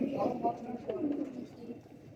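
Pigeons in a breeding loft coo in soft, low rolling phrases nearby, with a voice murmuring underneath at times.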